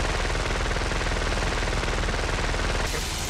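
Rapid machine-gun bursts from aircraft guns in a flight simulator game, a dense continuous rattle of gunfire held loud and steady for about three seconds before easing slightly at the end.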